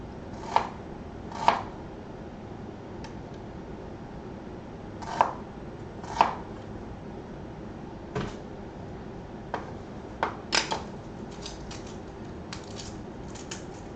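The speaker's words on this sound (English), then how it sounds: "So like I said, we're going ahead cutting up some onion." Knife chopping onion on a cutting board while cooking, heard as a handful of sparse, irregular sharp taps and knocks, fairly close, over low background hiss.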